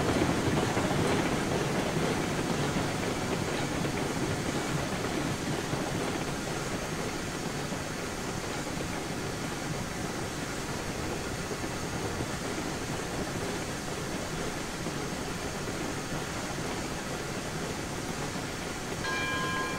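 Train slowing to stop at a freight depot in the Railroads Online video game: a steady, moderately quiet rolling rumble with faint bell-like ringing tones and a slight fade across nearly twenty seconds, with no speech.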